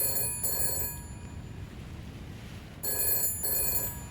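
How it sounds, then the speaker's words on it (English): A payphone rings in the video game Shadows of Doubt, two bursts of a bright electronic bell with a pause between them, loud and close against a low ambient hum. "I think this is the payphone over here."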